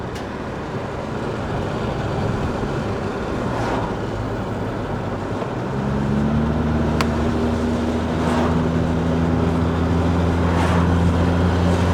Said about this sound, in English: whatever that noise that's coming from the engine is actually quite loud